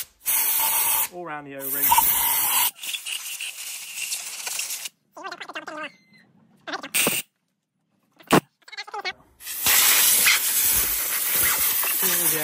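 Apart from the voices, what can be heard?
compressed air from an airline blasting a fuel filter housing clean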